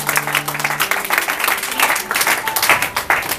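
A church congregation applauding together, a dense run of clapping that holds steady from start to end with some voices mixed in.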